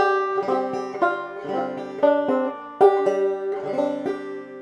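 A short phrase of clawhammer banjo with alternate-string pull-offs, notes bouncing in a quick, uneven rhythm with a few sharper accents, played alone.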